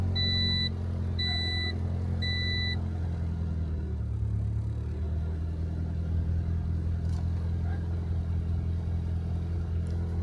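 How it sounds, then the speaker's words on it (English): A turbocharged Honda Integra's engine runs at a steady idle after starting, a low continuous rumble near the car, with a few electronic beeps at the start and no talking. "Now we can start the car and see if we get any readings off of the gauge."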